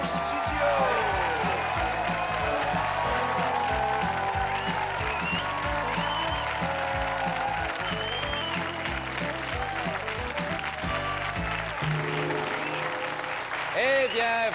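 A TV comedy show studio audience applauds and cheers loudly, with dense sustained clapping and some whoops. Music plays underneath throughout.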